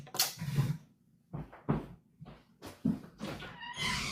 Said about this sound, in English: Hold on, it's my cat.